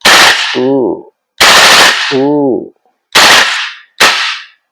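A VFC BCM MCMR 8.5 airsoft gas blowback rifle fires in burst mode: four loud, close, sharp bursts of rapid pops separated by brief pauses, with a whining tone trailing the first two.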